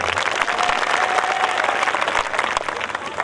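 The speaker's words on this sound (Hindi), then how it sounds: "आप लोगों ने इतनी तालियां बजाई, जरा जोरदार तालियां होनी चाहिए।" Loud, dense applause from a live show audience at Ramghat fills the whole stretch, steady sustained clapping with a faint tone running through the middle.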